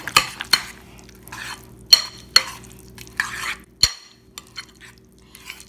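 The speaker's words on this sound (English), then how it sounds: "just keep mixing until it's like mashed potatoes and all the cheese is melted" A spoon stirs keto squash mash with melted cheese, giving irregular close scrapes and sharp clicks against the bowl with soft squelching between strokes, and no talking.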